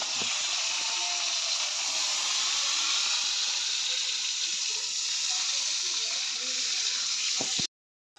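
Food sizzles steadily in a pan during home cooking for the Nabanna harvest festival, a constant broadband hiss at moderate level for about seven seconds before cutting off abruptly.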